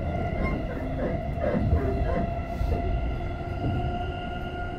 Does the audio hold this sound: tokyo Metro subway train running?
yes